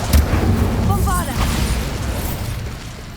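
The Bombarda explosion spell is cast in the Hogwarts Legacy video game, a heavy close boom that rolls into rumbling debris and a fading magical shimmer, with a voice nearby.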